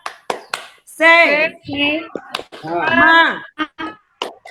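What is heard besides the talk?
students doing a rhythmic spirit clap in class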